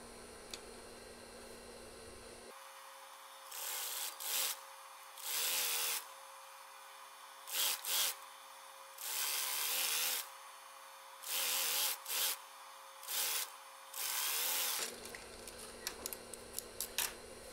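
A sewing machine stitches trouser waistband interfacing in several short bursts of whirring, close and fairly loud, separated by brief pauses, with a steady background hiss throughout.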